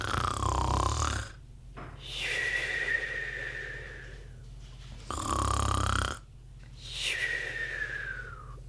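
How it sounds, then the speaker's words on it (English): Loud, close snoring in slow repeated cycles: harsh rumbling inhales alternate with whistling, fading exhales, roughly four breaths in a row with no talking. "It's someone snoring."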